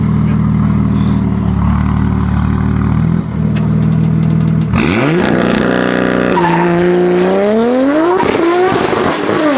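A BMW M4's engine roars at high revs as its tires spin and squeal, the pitch sweeping up and down loudly after a steady idle-like drone, with a person speaking briefly nearby.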